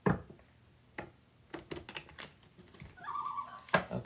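Tarot cards shuffled by hand in quiet surroundings: a series of crisp, irregular riffling and tapping bursts, close and fairly soft.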